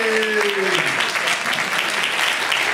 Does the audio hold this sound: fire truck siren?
no